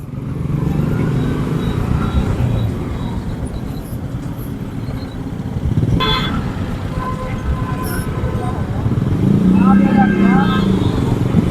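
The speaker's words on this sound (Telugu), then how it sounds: "Bumper to bumper traffic." Heavy bumper-to-bumper road traffic at the Kumbh Mela in Prayagraj, a steady loud rumble of engines and motorbikes with occasional horn-like tones, continuous and close throughout.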